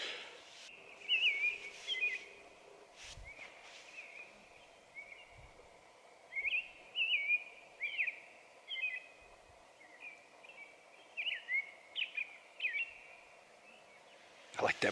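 Birdsong rings out by a lake during a wilderness canoe trip in the Boundary Waters: repeated bright whistled phrases, loud and fairly close, coming in bursts across the whole stretch over a quiet outdoor backdrop.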